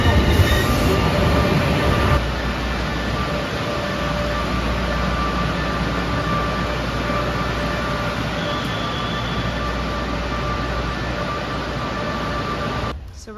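A train to Bologna, Italy rumbles steadily nearby, a loud continuous drone of wheels and carriages with faint tonal whines, ending in a brief clunk.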